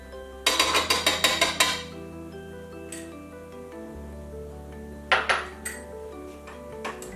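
Homemade blueberry Belgian waffle batter is beaten in a bowl, starting with a quick run of rhythmic clinks against the bowl, then a quiet hum, then a few more scattered taps.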